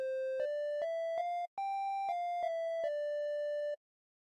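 A synthesizer plays a simple stepped melody in a mellow, slightly buzzy triangle-wave tone, with one brief gap, then stops.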